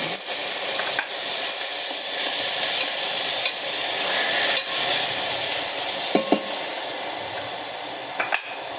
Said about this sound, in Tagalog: Ilagay ko na yung beef. Ilagay ko na yung oil. Ilagay ko na yung bawang.